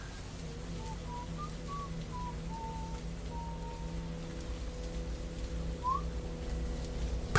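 A thin, repetitive whistle like birdsong, a few short high notes in a loose phrase heard faintly and at a distance over a steady hum and soft patter, with one rising note near the end.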